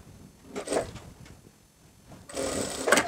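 A sewing machine stitching skirt palazzo fabric runs in two short bursts of whirring stitches, close and moderately loud, separated by a quiet pause.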